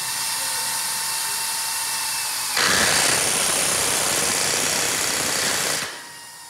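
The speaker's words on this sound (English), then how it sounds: "After all the riveting's done," A loud, steady riveting-tool whine, fastening a van trailer's roof nose rail and patch panel, cuts in over a background hum, runs for about three seconds, then stops abruptly.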